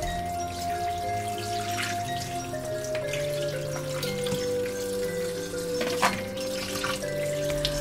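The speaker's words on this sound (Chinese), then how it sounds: "留意要将血水和血块清洗干净" Half a chicken is rinsed under a running kitchen tap to wash away blood and clots, giving a steady, close stream of water splashing in a sink with scattered drips and no talk.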